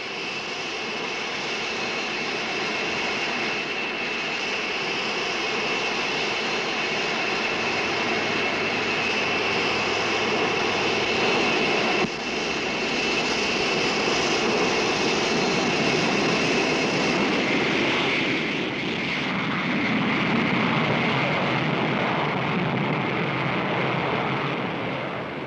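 A 1959 jet airliner takes off with a continuous, loud roar of its engines that swells and shifts in tone as it accelerates, a sustained rushing drone with no talk.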